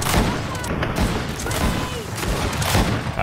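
Dense, rapid gunfire in the action role-playing video game Greedfall, a loud, continuous burst of overlapping shots and booms with a voice faintly underneath.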